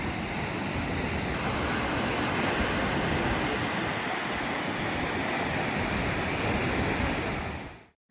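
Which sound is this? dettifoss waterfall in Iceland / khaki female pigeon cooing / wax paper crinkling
dettifoss waterfall in Iceland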